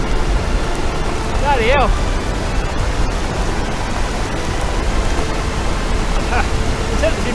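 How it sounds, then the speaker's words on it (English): Rushing torrent and waterfall on Iceland's south coast after rain, a broad, steady roar of water throughout, with a man briefly exclaiming over it. "Oh, waterfall in there!"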